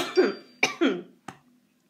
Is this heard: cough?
yes